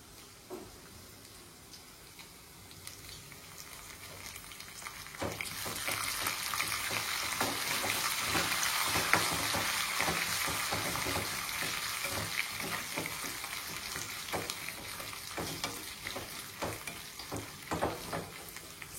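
Ginger and curry leaves frying in a pan for perugu vada, a steady close sizzle that swells louder after a few seconds, with occasional stirring scrapes and crackles over nineteen seconds.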